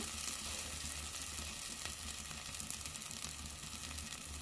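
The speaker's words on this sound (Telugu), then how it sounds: "ఒక ఫైవ్ మినిట్స్ ఫ్రై చేసుకోవాలి మసాలా అంతా ఇప్పుడు" Masala frying in a pan for pithiki pappu curry, a steady close sizzle with occasional stirring scrapes and no talking.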